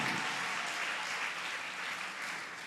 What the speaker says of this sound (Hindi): तालियां बजाकर हम परमेश्वर को धन्यवाद दे।